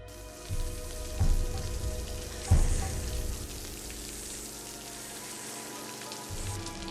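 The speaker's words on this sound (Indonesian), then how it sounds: "Oke, hujan nih, hujan." Rain patters steadily on a surface outdoors on a film set, a dense hiss with a few louder splashes and thuds, close and continuous with no talk.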